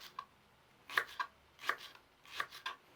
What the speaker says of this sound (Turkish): Daha ince doğruyorum.